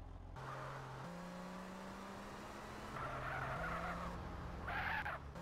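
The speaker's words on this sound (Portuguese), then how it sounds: "Se eu ficar queimando o pneu assim" A Cheetah sports car in GTA San Andreas Remastered does a burnout, its tires squealing continuously while the engine revs in stepped surges, loud and close with no talk.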